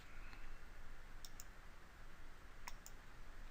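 Two pairs of quick, quiet computer mouse clicks as a button is pressed in software, each pair a sharp double tick against a soft background hiss, no voices.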